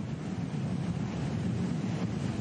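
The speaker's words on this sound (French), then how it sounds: "Quand même qu'il y a du vent." Gusty wind buffets the microphone at a women's cycling race stage finish, a loud, steady rushing roar with no talk.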